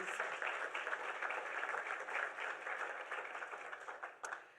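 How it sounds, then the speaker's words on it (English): An audience at a middle school graduation ceremony claps in a steady, fairly faint round of applause that continues throughout and thins slightly at the close. "Let's give Rebecca one more round of applause, please."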